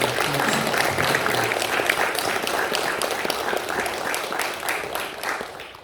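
A group at a funeral home service applauds together in a steady patter of many hands that gradually thins out, close and moderately loud, with faint voices murmuring beneath.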